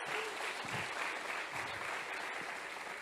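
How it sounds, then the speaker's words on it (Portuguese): A church congregation applauds in a steady, full wash of clapping that lasts about three seconds, with no voices standing out over it. "Aplaude a Deus,"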